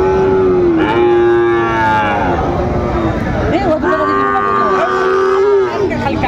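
Cattle, including Sahiwal and Friesian types, moo loudly and at length at a busy livestock market in Munshiganj, two long calls standing out over constant crowd chatter and voices.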